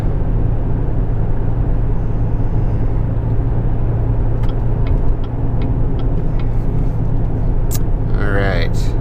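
A 2017 GMC Canyon Denali pickup with the Duramax diesel engine cruising, a steady droning engine rumble and road noise filling the cabin throughout, with a few faint clicks near the end.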